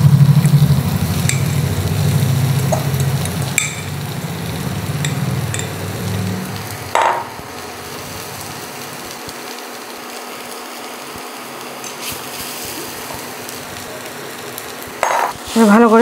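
Potatoes fry with cumin and spices in a pan, giving a loud, continuous sizzle broken by occasional spatula scrapes as they are stirred, the sizzle quieting later.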